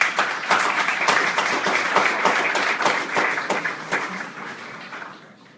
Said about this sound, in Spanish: Así que pido nuevamente para él un fuerte aplauso.